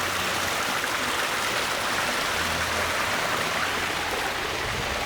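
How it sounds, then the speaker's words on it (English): Steady broadband rush of water flowing in a stream near a building in Sedona, Arizona, continuous and fairly loud throughout with no voices. "Now we got the water noise from the stream."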